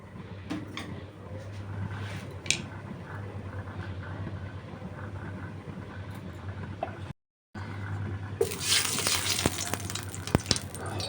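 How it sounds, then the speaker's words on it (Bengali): Oil poured into a hot kadai sizzles while cooking bok choy. A low, steady background hum comes first, then after a short gap a loud, bright hiss of frying bursts in and continues. "কড়াইটা গরম হয়ে গেছে, আমি তেল দিয়ে দিলাম"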